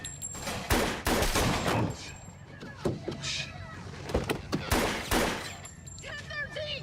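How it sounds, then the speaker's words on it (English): Gunshots in a crime TV drama scene, several loud, sharp bangs in quick irregular bursts with a car and a door sounding nearby, heard close and forceful. "Shots fired!"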